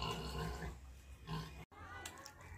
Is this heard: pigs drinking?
yes